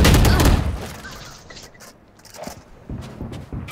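Bursts of Vandal rifle fire in Valorant: a loud, dense rattle of shots in the opening half-second, then quieter clicks and game sounds that trail off with a few brief flare-ups.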